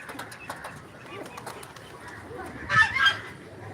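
Farm chickens and pigeons call close by, soft coos and clucks scattered over a quiet background, then a brief louder burst of squawking near the end, with occasional faint voices.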